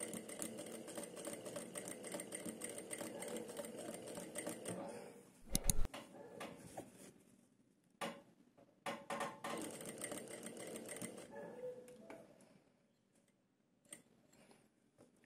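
A sewing machine stitching a princess cut blouse runs in a steady close rattle, pauses briefly with fabric handling clicks, then resumes in short bursts before stopping.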